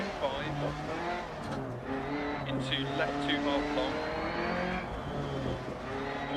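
A Fiat 131 Abarth rally car in the Dirt Rally video game revs hard through the gears on a Monaco stage, its engine pitch climbing and dropping with quick shifts. A co-driver's pace-note voice runs over it throughout.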